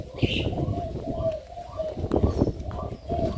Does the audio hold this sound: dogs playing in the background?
no